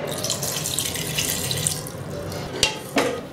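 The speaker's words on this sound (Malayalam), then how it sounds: "ഇതിലേക്ക് ഞാൻ എടുത്തു വെച്ചിരിക്കുന്ന തേങ്ങാപ്പാൽ ചേർത്ത് കൊടുക്കാൻ പോവാണ്." Coconut milk is poured into a Kerala chicken and potato stew, making a steady liquid pouring and splashing sound close by, followed by a few sharp clinks near the end, with no talking.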